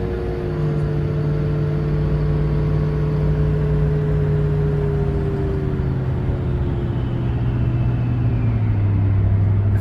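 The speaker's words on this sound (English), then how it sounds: "Let's give it a little throttle." A vehicle engine in a barn setting revs steadily and close up, its pitch gradually climbing then easing, with a constant whirring fan noise underneath throughout.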